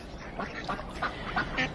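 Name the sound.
ducks quacking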